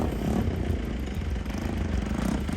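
A motorcycle engine keeps running after being push-started in cold weather at Sailung, giving a steady, close, mid-pitched idle with a clattery, uneven beat throughout.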